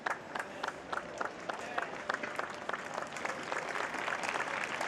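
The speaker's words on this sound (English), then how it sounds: "warm applause from the crowd" Warm applause ripples through the crowd at a men's pairs lawn bowls final, dense steady clapping sustained for several seconds at moderate distance.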